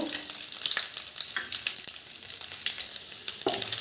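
Finely chopped ginger and garlic fry in hot oil with mustard seeds and cumin for egg rice, giving a bright, crackling sizzle up close with occasional spatula scrapes and pops, no voices.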